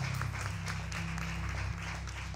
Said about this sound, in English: Let's give a round of applause for the Love and Rain Beauty Supply Company.